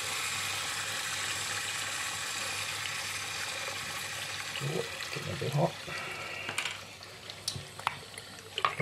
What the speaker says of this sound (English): we just keep rinsing the sponges until the ink stops flowing out of it